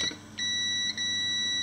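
A multimeter on continuity test beeps at a laptop's AC adapter input against ground, a steady electronic tone broken by two brief dropouts, close and clear.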